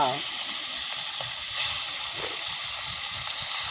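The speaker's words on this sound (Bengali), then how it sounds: "মাছ ভাজা তেল নিয়ে কালো পড়া হয়ে গেছে" Fish sizzles loudly and continuously frying in hot oil, a dense crackling hiss with occasional pops, close by.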